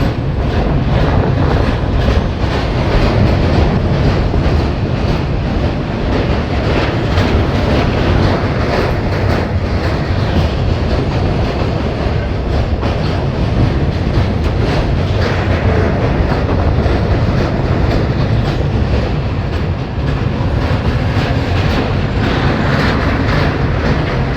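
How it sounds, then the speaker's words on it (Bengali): A train on the Howrah–Agra route crossing a river bridge, heard as a loud, continuous close-up rumble and rattle of wagons and wheels that holds steady throughout, with no talking. "নদী পার করছে ট্রেন"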